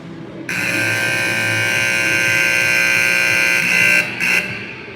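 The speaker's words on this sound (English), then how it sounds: "So there's a very loud buzzer, which we seem to be sitting right under" A very loud, harsh electronic arena buzzer at a youth ice hockey game blares close by for about four seconds, then sounds again in a brief final burst.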